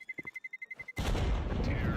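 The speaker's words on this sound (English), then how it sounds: "New bomb explosion" A Counter-Strike bomb ticks with quick, evenly spaced beeps, then detonates in a sudden, loud, roaring blast that stays heavy until the end.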